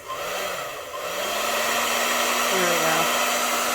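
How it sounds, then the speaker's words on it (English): A hair dryer running on its low setting gives a steady, loud whirring drone throughout, with a brief dip near the start and a short spoken phrase over it. "I'm going to turn my hairdryer down to low."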